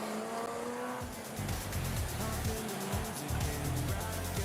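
Race cars circle a loose-dirt speedway track in Rockhampton, engines roaring and rising and falling in pitch as several machines pass close by, the noise dense and continuous with repeated swells.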